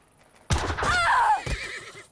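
Horse neighing in the video game Age of Empires III, a loud, close whinny with a falling, wavering tone followed by a short snort, set over faint game background sound.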